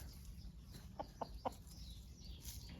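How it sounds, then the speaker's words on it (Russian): A large Marans rooster kept free-range gives three short, soft clucks about a quarter second apart, close but quiet over a low background hum. "Вот этого петушка марана. Он большой, красивый."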